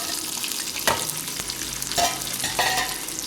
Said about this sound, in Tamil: இதெல்லாம் சேர்த்து நல்லா பொன்னிறமாக நல்லா வதக்கிக்கிறோம்